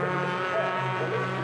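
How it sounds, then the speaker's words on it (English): Several racing cars in a Sports 2000 championship round pass on a circuit, three cars approaching together with a steady, loud engine drone that holds for the whole moment without a clear peak. "So 3 cars heading towards us now."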